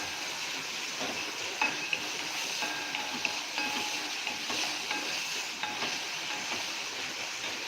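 A steady, even hiss of chopped tomato frying in a pan, with faint scattered pops and taps throughout.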